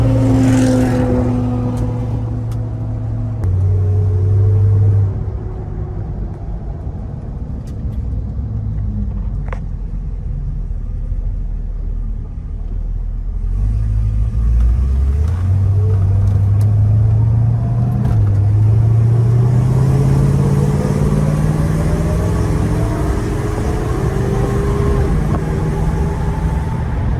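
A 1969 Dodge Charger Daytona engine revs and pulls away with a deep, rising rumble, easing off and building again as it accelerates, heard close with no talking.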